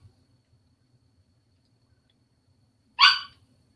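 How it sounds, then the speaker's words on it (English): A small dog gives a single short, sharp yap off in the background of an otherwise nearly silent indoor room. "Y'all hear my little dog yapping in the background?"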